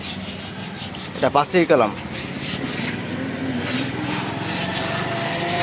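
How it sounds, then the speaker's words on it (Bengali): Wood is rubbed down by hand before varnishing, with a few strong rhythmic sanding strokes early on, then steady background hum; someone speaks briefly. "এরকম এটা ঘষে আমরা আবার বার্নিশ করব"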